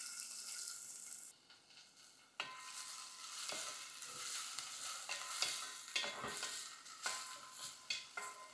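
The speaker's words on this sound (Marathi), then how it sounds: "याला छान परतून घ्यायचं." Chopped onion, cumin and green chili sizzling in hot ghee while a spoon stirs and scrapes the pan, steady frying hiss broken by sharp clinks, close and without talk.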